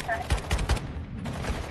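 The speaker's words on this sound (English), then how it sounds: "Stop shooting me." Three quick gunshots in an online shooter game, about a quarter second apart, fairly muted and mid-distance, then quieter scattered fire trailing off.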